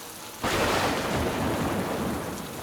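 Heavy rain pours in a dense, steady hiss that surges in suddenly, with a low rumbling undertone like distant thunder.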